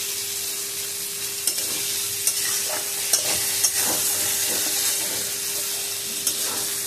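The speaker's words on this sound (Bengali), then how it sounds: "আমি একটু মশলা কষাই" Spice masala stir-fried in oil in a pan, a steady loud sizzle running throughout with a handful of sharp spatula scrapes and taps scattered across it, close and without talk.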